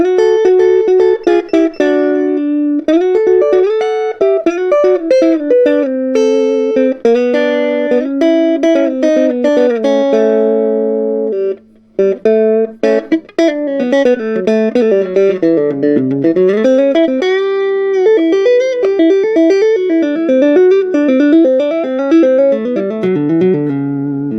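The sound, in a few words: electric guitar through Selmer Little Giant amp, clean tone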